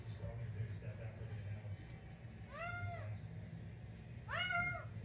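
A house cat meows twice, clear, rising-and-falling calls a couple of seconds apart, heard close over a steady low hum and faint background noise in a room.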